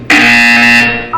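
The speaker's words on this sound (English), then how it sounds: "You will hear a buzzer." A loud, steady buzzer tone from the video game Portal 2 holds for about a second, rich in harmonics, then cuts off abruptly.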